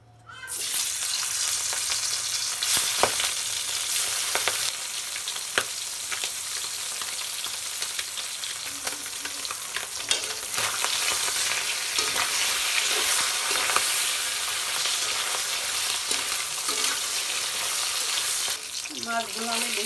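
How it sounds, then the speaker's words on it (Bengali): Shing fish fry in hot oil in a kadai, producing a loud, continuous close-up sizzle and crackle that runs unbroken for the whole stretch. "মাছ ভাজার জন্য কড়াইতে তেল দিয়ে দেবো।"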